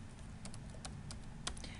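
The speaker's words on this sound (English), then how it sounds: "I'm going to type in the city." Quick typing on a computer keyboard while entering bibliography details in Word, a brisk run of close key clicks over a low steady background hum, no voices.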